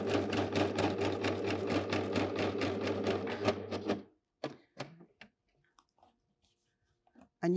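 An Amber Air S 600 overlocker serges fabric in a steady, fast rapid-fire stitching run for about four seconds, close and fairly quiet, then stops, leaving only a few faint clicks and handling noises.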